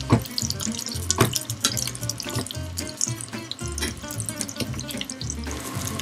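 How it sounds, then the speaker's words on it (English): Salmon fillet skin-side down searing in hot oil in a pan while hot oil is spooned over the top, a dense, steady crackle and sizzle with bursts of spattering and clinks of the spoon, close and continuous. "We're just gonna sear this for a couple of minutes to get that skin real nice and crispy"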